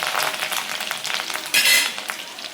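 Curry leaves and garlic hitting hot oil for a bitter gourd curry, a crackling, spattering sizzle with light stirring scrapes and a sharp, louder burst of popping midway.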